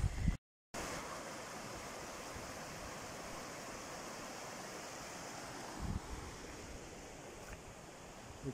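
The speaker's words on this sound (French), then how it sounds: "Le torrent de Réalon." Steady rushing roar of the Réalon, a mountain torrent, heard close and continuous, with a brief dropout near the start and a few faint knocks later on.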